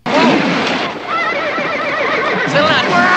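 A horse whinnies loudly and repeatedly up close, shrill wavering neighs, with hooves shuffling and a voice briefly underneath.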